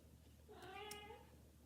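A small black cat gives a single soft, drawn-out meow, quiet and close, rising then falling over about half a second against near silence.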